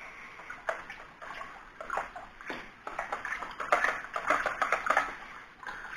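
Liquid fertilizer being stirred into water in a container for a hydroponic Pak Choi setup, with close, irregular splashing and sloshing and light clinks as the mix is worked through, no talk.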